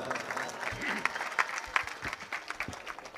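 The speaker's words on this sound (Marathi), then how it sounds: "बाबांकरता एकदा टाळ्या वाजवा." A crowd at a kirtan gathering in Alandi claps for a visiting religious figure, a brief burst of hand claps with some voices mixed in, moderately loud but thin and scattered.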